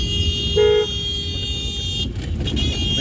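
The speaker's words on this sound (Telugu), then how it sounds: "మూడు రోడ్ సెంటర్ హార్న్ కొట్టాలి." A car horn gives one short toot at a three-road junction during a driving lesson, sounding over a steady engine and road noise with no talk.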